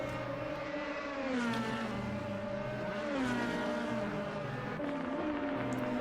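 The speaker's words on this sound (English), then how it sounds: "Looking at more cars here and there trying to set times on the back straight." Race cars at speed down the back straight at Zolder during a PRC PWC 2020 round, engines droning and rising in pitch as they pass, with a steady loud roar and no talking.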